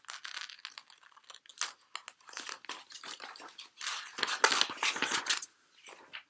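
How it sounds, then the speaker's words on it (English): Scissors snipping through paper while cutting out a printed picture for a collage, irregular bursts of close crisp cuts and paper rustle with short pauses between them, no talking. "This picture I'm cutting out at the moment"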